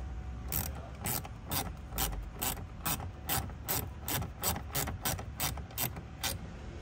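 A ratcheting tool clicks in a steady rhythm while plastic trim screws are tightened into a car cup holder, about twenty sharp close ratchet bursts in a row with no talk.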